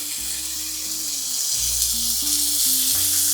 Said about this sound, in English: I'm just going to fry up that bacon right here on this griddle.